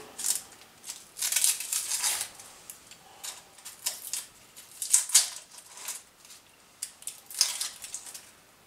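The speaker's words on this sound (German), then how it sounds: "Und jetzt schäle ich mir gleich noch die Zwiebeln" Onions are peeled by hand, producing crisp papery crackles and short tearing rustles in uneven bursts, close up and moderately loud, with brief pauses between handfuls.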